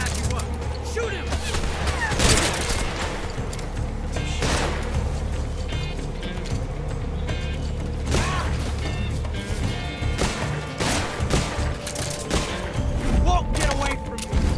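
Rapid gunshots from the Patriot rifle in Metal Gear Solid Delta, bursts of sharp cracks with clattering impacts and mechanical noise, dense and loud, mixed with other game sounds.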